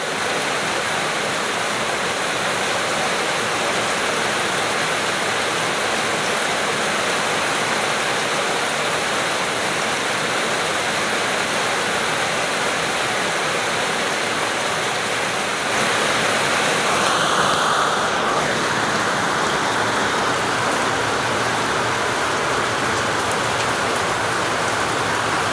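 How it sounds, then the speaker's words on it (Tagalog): Heavy rain pours down outdoors in a dense, loud, unbroken hiss that runs steadily for the whole stretch, with a brief shift in tone partway through. "Yun nga, maulan na araw ngayon, no? Ayan, malakas yung ulan."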